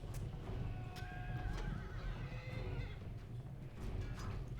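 Horse archers' horses in Rome: Total War whinny and neigh amid a steady battle din, with clip-clop hooves and several sharp calls cutting through at a moderate distance.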